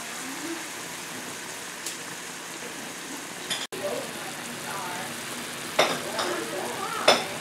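Slices of beefsteak polypore mushroom, seasoned with salt and pepper, fry in a pan with a steady hissing sizzle, broken by a few sharp scraping clicks near the end.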